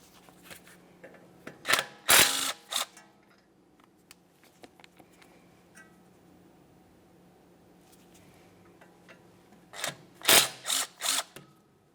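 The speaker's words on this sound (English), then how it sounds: "we'll continue on to removing these two 10mm headed bolts that hold your brake flex hose to that steering knuckle" Ratchet clicks from a hand tool loosening two 10mm bolts that hold the brake flex hose to the steering knuckle of a 1994-1997 Honda Accord, coming as short close bursts of rapid clicking at the start and the end, with quiet pauses between.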